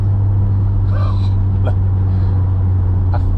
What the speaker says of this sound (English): I feel like the clutch is slipping there as well